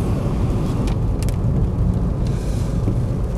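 A Citroen Xsara 2.0 HDi 110 estate driving, heard from inside as a loud, steady low diesel drone with road rumble, unbroken for the whole stretch.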